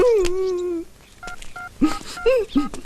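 Mobile phone dialing tones sound as a few short, evenly spaced beeps, with vocal sounds before and after them.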